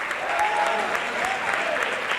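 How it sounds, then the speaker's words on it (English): An audience at a 2025 high school sports awards ceremony applauds the team managers with steady, sustained clapping and a few faint voices mixed in. "big round of applause for you guys"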